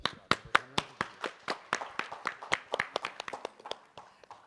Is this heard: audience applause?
yes